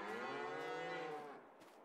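A cow in a large barn in Farming Simulator 22 lets out a single long, deep moo that holds steady and then fades toward the end, fairly quiet and alone.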